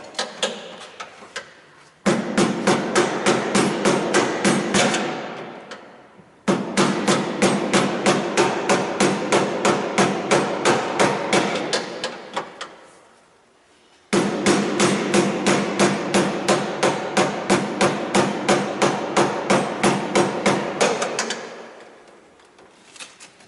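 Steady hammer blows in three long bursts separated by short pauses, struck close and loud with an even, rapid rhythm during work on a 200A 480V three-phase main power feed.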